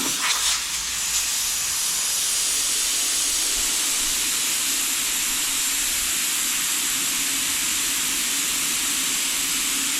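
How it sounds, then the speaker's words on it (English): Preset automatic tyre deflators screwed onto car tyre valves let air out together as a steady, loud, continuous hiss of escaping air, close by and unbroken throughout, with no voices. "you'll probably hear it all deflating at the same time"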